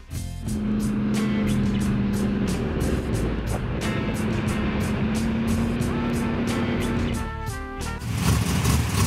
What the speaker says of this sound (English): we just started up the Comet and got it warmed up. So we're about to test our first dyno run.